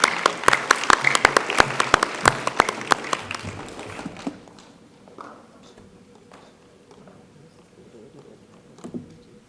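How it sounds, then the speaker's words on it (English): Audience applause at a primary school mental maths competition, dense clapping for about four seconds that thins out, leaving scattered claps and faint room noise. "Give them a round of applause"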